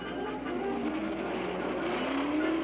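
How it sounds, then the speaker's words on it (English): A roadster race car roars at the 1964 Indianapolis 500, a loud, steady engine howl that climbs in pitch as it passes close by, with no voices over it. "the hero of the roadster set, Parnelli Jones, roars into the lead"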